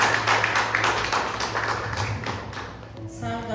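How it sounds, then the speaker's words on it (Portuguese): A church congregation claps in steady, dense applause that carries straight through, fading slightly at the end as a voice begins. "Pode aplaudir o Senhor."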